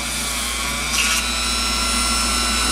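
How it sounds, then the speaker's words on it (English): A drill bores steadily into a twist-lock electrolytic capacitor resting on a piece of wood, giving a continuous close, loud motor whine with a brief surge partway through and no talking. "Let the drill do the work."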